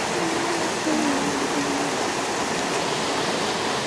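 A tiny waterfall on a cold mountain river gives a steady, close rushing wash of falling water that stays even and unbroken from start to finish.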